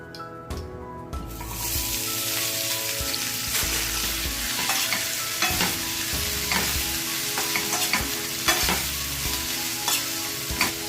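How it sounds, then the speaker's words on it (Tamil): Sliced onions fry in hot oil in a pan for an egg masala, giving a loud, continuous sizzle with repeated scraping stirs throughout. "இந்த வெங்காயம் கொஞ்சம் சீக்கிரமா வதங்குறதுக்காக இதுல நான் உப்பு சேர்க்கிறேன்"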